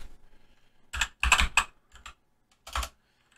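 Bursts of typing on a computer keyboard, entering an application name into a Palo Alto firewall policy: clustered clicky keystrokes in short runs with brief pauses, close and fairly quiet, no voices.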